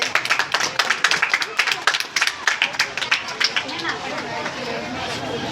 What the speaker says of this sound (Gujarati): તાળી પાડવાની છે.